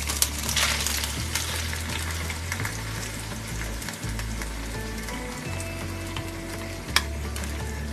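Masala puree for restaurant-style matar paneer hits a hot pan and fries with a dense, crackling sizzle, stirred throughout with scattered clinks and a sharp knock near the end, with no voices.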